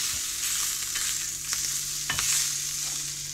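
Sausages frying in a pan at an RV campsite, a steady close sizzle with a few stirring scrapes and clinks.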